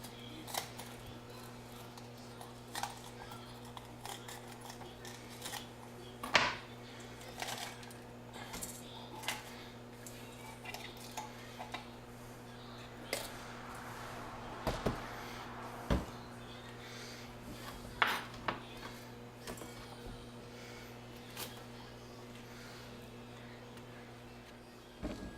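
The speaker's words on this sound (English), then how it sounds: "now with the last pepper being cut" A knife slicing through bell peppers on a cutting board, with a series of faint, irregular cuts and taps spread over a steady low hum.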